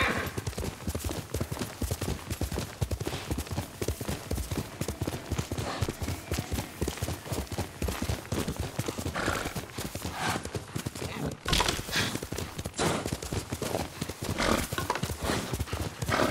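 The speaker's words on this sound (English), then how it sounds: "Almost cinematic style at some points while you're riding the horse." Horse hooves galloping steadily in the video game Ghost of Tsushima, a fast, continuous clip-clop rhythm running loud and close throughout, with someone talking over it.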